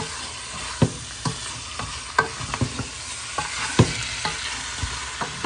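Homemade browning for Jamaican brown stew chicken, stirred and frying in a pot. A constant sizzle carries scattered scrapes and knocks from the spoon, close and moderately loud, with no talking.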